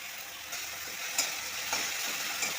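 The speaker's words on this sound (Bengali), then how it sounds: "এগুলো আমি একেবারেই তেলের মধ্যে দিয়ে দিচ্ছি" Spices and a little ginger fry in hot oil for a Bengali dal tadka, giving a steady close sizzle with a few light stirring clinks.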